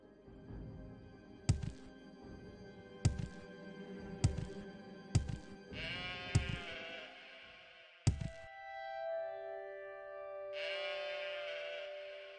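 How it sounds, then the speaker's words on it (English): Sheep bleating in the Morrowind video game, tonal baa calls heard twice over a game soundtrack with several sharp thumping footfalls or impacts, fairly faint and distant in the mix. "There was a sheep noise."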